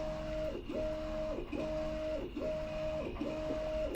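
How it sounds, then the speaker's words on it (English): A printer runs through a rhythmic cycle of repeated mechanical passes, each a whirring tonal sweep followed by a brief click, quiet and steady with no voices. "Now you can all listen to the music of the printer"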